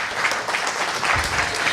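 An audience claps steadily and fairly loud, a dense wash of hand claps with a few sharper individual claps standing out.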